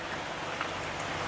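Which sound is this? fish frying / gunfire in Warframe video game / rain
rain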